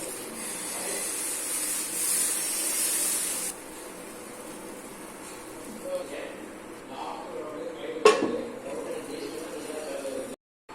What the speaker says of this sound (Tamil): அடுத்ததாக ஒரு தோசை ஊற்றி பார்க்கலாமா